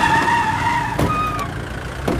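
A car pulls away near a roadside dhaba, its engine droning steadily with a brief tire squeal and a couple of sharp knocks, loud and close with no talk over it.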